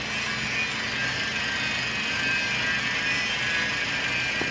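A refreshed Toyota Vios Gen 4 engine with Dual VVT-i runs at a steady idle, heard as a continuous close mechanical whir and hum with a bright hiss that holds even throughout, and no talking.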